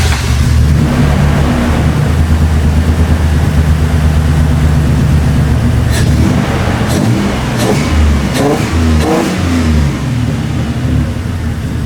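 A loud, close truck engine runs steadily, then revs up and down in several bursts before settling back toward a rough, slightly low idle.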